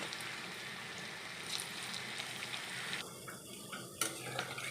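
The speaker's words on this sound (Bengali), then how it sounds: "এখন আমি ভেজে নিচ্ছি" Paneer pieces frying in hot oil in a kadai for chili paneer, a faint, steady low sizzle with a few light utensil clinks near the end.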